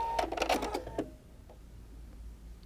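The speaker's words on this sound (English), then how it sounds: "I lots of times use decorative stitches when I sew on my binding for play quilts" Pfaff Creative Performance sewing machine stitching decorative stitches for quilt binding: a quick burst of rapid, close mechanical stitching clatter lasting about a second, then a short click and a quiet room hum.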